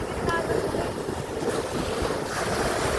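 Ocean waves and a strong current surge steadily at Caba Beach in La Union, Philippines, with constant rushing surf and heavy wind noise on the microphone.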